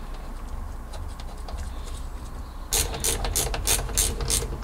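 Ratchet tightening a bolt on a carburettor float bowl during cleaning, a quick run of sharp clicks starting partway through after a quieter stretch of workshop handling, close and fairly loud.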